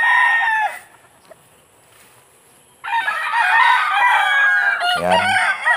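A sweet gray gamefowl rooster crows loudly and close by, one crow cut short at the start and another long full crow after a quiet pause, ending with some low clucking.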